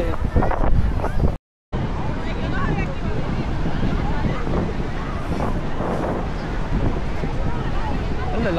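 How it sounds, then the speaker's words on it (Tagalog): Large surf at a crowded Huntington Beach on the Fourth of July gives a steady broadband roar, with strong wind buffeting the microphone and people talking nearby throughout. "ang lalaki ng alon oh."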